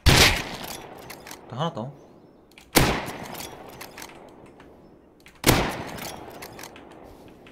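Gunfire in the online survival game Rust: three loud, sharp shots or short bursts a few seconds apart with echoing tails, heard close, while people talk briefly between them.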